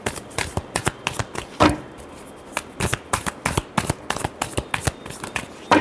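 Tarot cards being shuffled by hand, a rapid crisp riffling with repeated sharp flicks and slaps in an uneven rhythm, close and clear with no voice over it.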